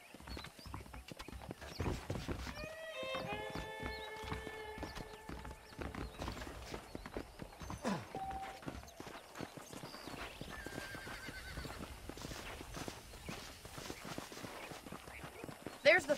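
Horses in the Red Dead Redemption video game, with steady hoof clip-clop and several whinnies and neighs close by, under a busy game soundscape where voices talk.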